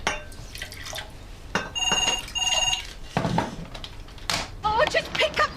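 A landline telephone rings in a home in two short bursts of bright double-toned ringing, set among household clatter and a voice speaking nearby.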